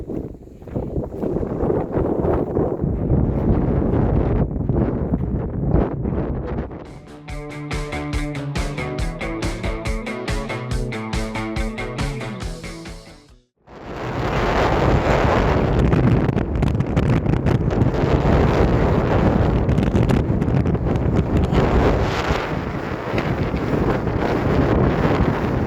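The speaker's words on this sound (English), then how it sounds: "It's howling out here. It's a little windy." Strong wind howls and roars across an exposed mountain ridge near Carson Pass on the Pacific Crest Trail, a loud, constant buffeting with heavy microphone rumble, broken by a tonal whistling stretch in the middle and a brief lull before the gusts resume.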